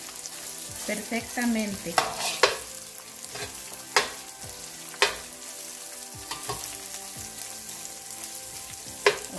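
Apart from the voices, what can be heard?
rice frying in a pan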